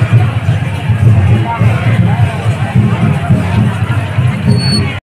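Festival crowd at a Sarhul celebration on Gumla road, a loud, continuous babble of many voices from a dense outdoor gathering, with a nearby voice talking over it.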